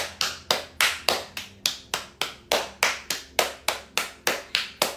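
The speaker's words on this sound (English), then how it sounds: "Let's clap our hands." Hands clap about fourteen times in a steady, even rhythm, each sharp and close, during a fascia movement class with no voices over them.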